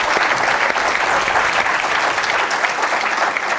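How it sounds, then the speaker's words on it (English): An audience at a live political roundtable applauds the panelists, dense sustained clapping from many hands, even and steady from start to finish with no talk over it. "I hope we can have one more round of applause for these guys and the work that they've"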